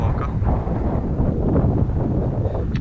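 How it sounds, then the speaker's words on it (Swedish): Wind gusts on the rocky coast at Stångehuvud near Lysekil, Bohuslän, buffet the microphone with a continuous loud, low rumble that surges unevenly throughout. "Jag märker att det blåser en del"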